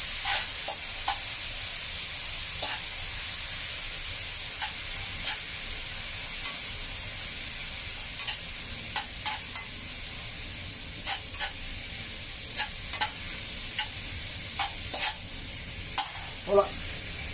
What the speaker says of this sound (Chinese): 慢慢炒香佢。